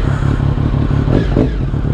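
A Triumph Speed Triple 1050 motorcycle engine runs loud and close, holding a deep, steady idle with a rhythmic throb and light mechanical clatter, the note rising briefly in a mild rev.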